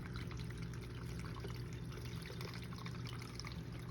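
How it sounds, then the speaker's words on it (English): Water is poured over micro-green sprouts and drains out into a sink, a soft, continuous splashing trickle with small drips, heard alone and fairly quiet throughout. "Just pour as much water as you want in there, because it's all going to drain out into the sink"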